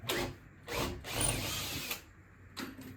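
A cordless screwdriver whirs in short repeated bursts while the concrete shutter, a mould holding concrete until it sets, is taken apart during a Mediterranean villa renovation, with a ratcheting mechanical edge and pauses between runs.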